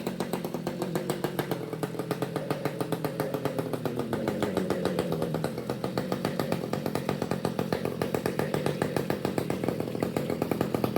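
A Husqvarna 572XP professional chainsaw fitted with an 80 big-bore kit and open exhaust pipe idles loudly and close, a rough, rapid steady putter throughout.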